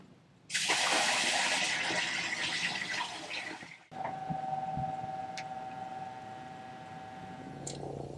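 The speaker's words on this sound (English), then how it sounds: "now I'm going to dump some water down on the bilge and see if the pump kicks on" Water dumped into a sailboat's bilge pours in loudly for about three seconds and stops abruptly, then the bilge pump runs with a steady whir and faint sloshing.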